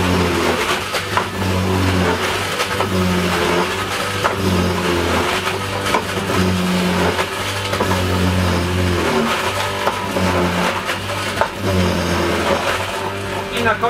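A loud electric grater whirs and grinds continuously as potatoes are fed through, its motor pitch pulsing, with a voice talking over it.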